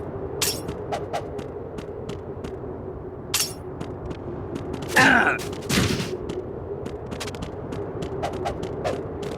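Gunfire in Metal Gear Solid 2 crackles as a series of sharp, scattered shots over a low humming game background, with a louder burst of clashing and ringing around the middle.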